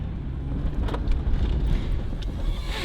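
A Jeep Grand Cherokee driving off-road with a loud, low engine rumble under wind buffeting, plus a few rattles and bumps over rough ground.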